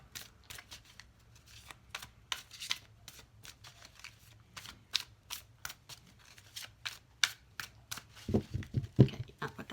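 A deck of cards is shuffled repeatedly in a quiet room, crisp riffling bursts in an uneven rhythm, ending with a louder flurry of handling.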